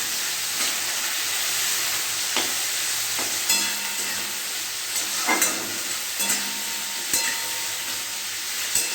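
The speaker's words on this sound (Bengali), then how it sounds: "পেঁয়াজটা লাল লাল করে ভাজা হোক" Sliced onions and slit green chillies fry in a pan, a steady close sizzle with occasional clicks and taps of a spatula stirring against the metal, no voices.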